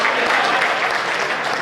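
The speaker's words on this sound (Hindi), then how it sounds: "आप सभी को अच्छा लगा तो जोरदार ताली बजा करके मारो" Audience at a Hindi comic poetry gathering claps loudly in a dense, continuous burst of applause with no speech over it.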